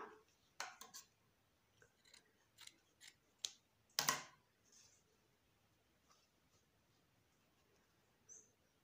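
Scissors snipping through small pieces of tricoline cotton fabric for flower petals, a series of quiet, sharp cuts spaced irregularly, with one louder snip midway, in a quiet room.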